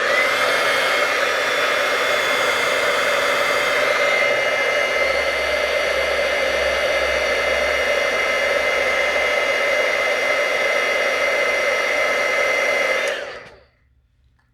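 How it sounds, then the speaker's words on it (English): Embossing heat tool blowing steadily for about thirteen seconds, a loud, continuous whooshing roar like a hair dryer, then cutting off abruptly with a short fade to silence. "And then I can go in with my heat tool."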